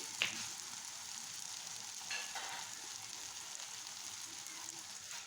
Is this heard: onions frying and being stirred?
yes